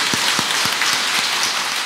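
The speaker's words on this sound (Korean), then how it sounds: "환영의 박수 한번 보내주시기 바랍니다." A Catholic parish congregation at Mass applauds in welcome for a visiting priest, a dense, steady wash of clapping filling the space from start to finish.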